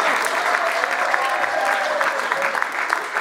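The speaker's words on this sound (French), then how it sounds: "Est-ce qu'on peut applaudir pour les mamans d'abord?" An audience at the closing of an international congress in Brussels applauds for the mothers, loud, continuous clapping from a crowd with a faint voice or tone running underneath.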